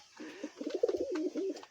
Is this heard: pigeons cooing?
yes